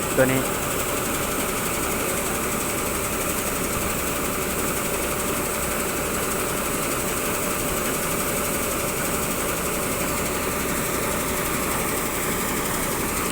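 Isuzu D-Max pickup with a roughly 2.5-litre diesel engine running steadily, a continuous dense mechanical drone with constant vibration throughout, no talk.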